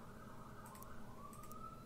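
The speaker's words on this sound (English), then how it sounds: "Actually, that's an ambulance. I can tell by the sound." An ambulance siren in the submarine game Silent Hunter IV, a faint wailing tone rising and falling in the distance behind steady low engine rumble.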